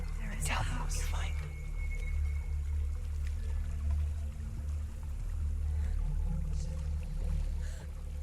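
A waterfall rushes in the dark fantasy game Hellblade: Senua's Sacrifice as a steady, low, continuous roar. Faint whispering voices drift over it.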